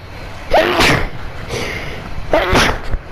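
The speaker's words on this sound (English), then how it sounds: "I had to sneeze." Two sharp sneezes burst out close to a microphone, the first followed by a short breathy aftermath and the second coming about two seconds later.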